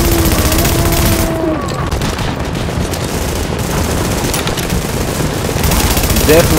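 Gunfire in The Division video game during a refugee camp mission, dense rapid bursts of automatic fire with some booms, loud and continuous, with players talking underneath.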